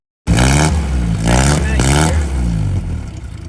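1959 Willys Jeep Wagon engine cranking to life and revving, loud close rising and falling engine roar with harmonic surges, then settling to a steadier idle.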